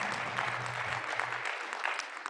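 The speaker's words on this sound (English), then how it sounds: "Huge round of applause for our panel." An audience at a health technology conference applauds its panel, a dense, steady wash of clapping that stays fairly even in level throughout the brief burst, with no voices over it.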